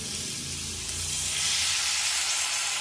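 Water splashes into a hot pan of onion, tomato and turmeric, setting off a loud, steady sizzle and steamy hiss that swells and grows brighter partway through, with no talking.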